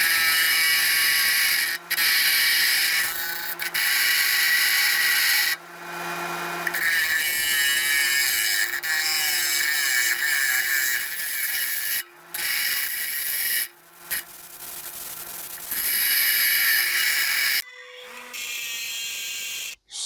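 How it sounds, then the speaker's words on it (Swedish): A grinding machine shapes a steel repair piece for a Camaro car frame, giving loud sustained metallic grinding in long bursts broken by short pauses and changes in pitch. "Men det tar vi i slipmaskinen istället."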